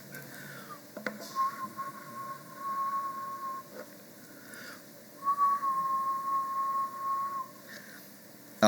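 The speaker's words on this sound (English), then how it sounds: "I'm gonna try to assign an integer by whistling." Whistled tones entering code for the Velato programming language: two sustained, steady whistled notes, each held for a couple of seconds with a short gap between, fairly clear over a quiet room background.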